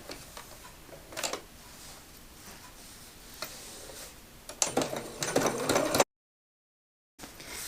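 A sewing machine runs in short bursts, stitching down the folded top edge of a pocket on a planner cover, with a quiet steady whir and fast rhythmic ticking, close and fairly soft, with a brief gap of silence.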